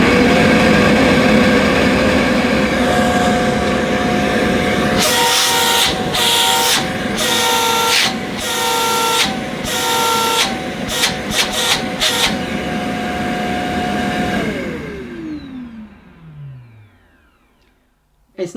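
A Shark CV100UKT bagless cylinder vacuum cleaner switches on and runs with a steady motor whine and tonal hum, broken by several short surging bursts midway, then winds down with a falling pitch as it is switched off.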